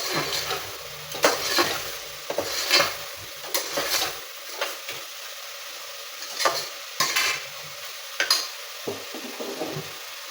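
Food is mashed in a pan with repeated scraping, pressing strokes in an irregular rhythm, with brief quiet gaps and a faint sizzle beneath, close-up and without talk.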